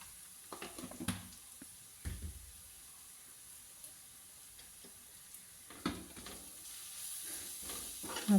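Kashmiri and regular chilli powder sizzles faintly as it is stirred into a prawn roast masala in the pan. A few soft scraping strokes break through a low, steady fry, with no voices.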